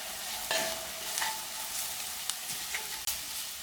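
Spices cooking in a pan, a soft, steady sizzle with light stirring and a few sharp clicks of a utensil against the pan, fairly quiet and close, no talking.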